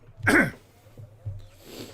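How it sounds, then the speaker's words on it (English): A single sharp sneeze bursts out near the start, followed by quieter sniffing and faint background noise. "And I'm about to sneeze."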